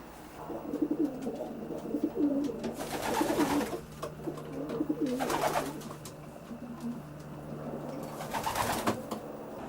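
Racing pigeons coo in a loft in Devon, several soft, throaty rolling coos repeating across the span with rustling and bursts of wing noise, fairly close.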